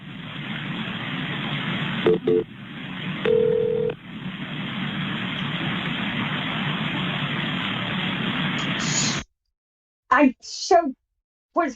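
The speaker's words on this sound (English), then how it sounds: "pick up the phone and make the call" Touch-tone telephone dialing beeps during a call, with short tone bursts standing out over a steady hiss, followed by a brief pause and then faint voices on the line.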